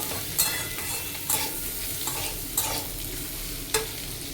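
Ingredients for fried rice hiss continuously in a hot pan, punctuated by a few sharp spatula scrapes and knocks at irregular intervals, close and with no talking.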